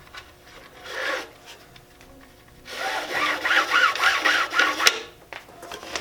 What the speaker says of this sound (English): Pull that slack out of there, then go under the next 2 to help cinch it down